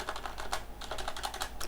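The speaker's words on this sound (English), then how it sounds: "for a mechanical keyboard, it gives you this responsive and more tactile experience when you are typing on it" Rapid typing on a mechanical keyboard with tactile switches, a steady close patter of crisp clacking keystrokes with no voices.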